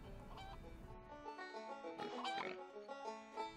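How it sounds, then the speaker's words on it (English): Pigs grunt and oink while chickens cluck in the game Noby Noby Boy, a faint barnyard chorus of game animal noises with no talking. "Hear those freaking chickens and pigs making noises."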